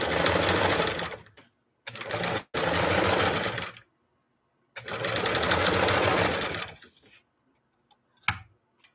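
A Singer 328K sewing machine stitches a zigzag in several loud, close bursts of rapid rhythmic clatter, each lasting a second or two, with short silent pauses between them and a faint click at the end.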